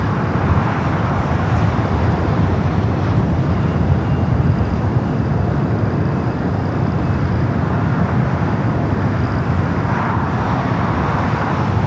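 An Air France airliner taking off at LAX, a steady, loud broadband jet roar filling the whole stretch without letup, mixed with general airport background noise.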